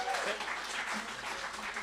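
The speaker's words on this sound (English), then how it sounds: "Round of applause." Audience applause at a community evening of creativity performances, a steady, fairly faint wash of clapping lasting the whole short stretch with no pause.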